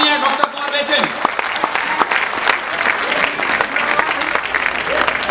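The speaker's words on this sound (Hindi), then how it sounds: "श्रद्धेय कुंवर बेचैन के लिए आपकी जोरदार तालियां उठें।" Audience applause welcoming poet Kunwar Bechain at a historic kavi sammelan at Delhi's Red Fort, a dense, steady crowd clapping that holds loud for the whole stretch, with faint voices mixed in.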